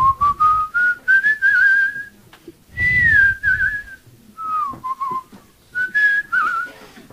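A person whistles the tune Rosa Tirana in clear, close melodic phrases with short pauses between them.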